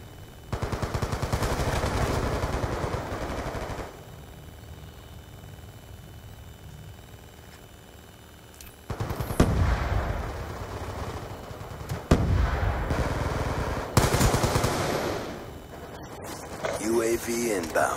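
Bursts of video game gunfire crackle through a battle, loud rapid volleys separated by quieter stretches, with voices and game announcements talking over the action.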